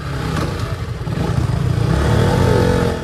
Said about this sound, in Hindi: आप करो KTM की पावर चेक।